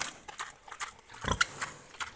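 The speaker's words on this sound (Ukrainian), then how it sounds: "дав я свиням їсти." Pigs eating a wet mixed feed mash, giving soft irregular chewing, slurping and snuffling bursts close by, with one louder thump partway through.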